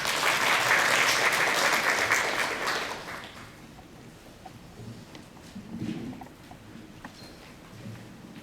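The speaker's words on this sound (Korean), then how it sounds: "박수 부탁드리겠습니다." Audience applause at a policy seminar on building safe villages, a moderate burst of clapping lasting about three seconds before dying away into quiet room noise with faint rustling.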